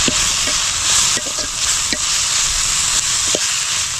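Masala sautés on a dosa tawa with a constant hissing sizzle, broken by a few sharp scrapes and taps of the stirring spoon, close up and without speech.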